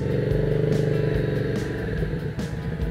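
An FKM Victorino 250i motorcycle rides off-road with its rear tyre slipping, the engine rumbling and revving loudly up close with some clattering.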